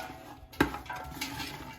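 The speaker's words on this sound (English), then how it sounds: "I'm going to give it a stir to coat it with the olive oil" Vegetables stirred in olive oil in a soup pot, with a short sharp clink of utensil against the pot followed by a low sizzle and soft scraping, close and alone.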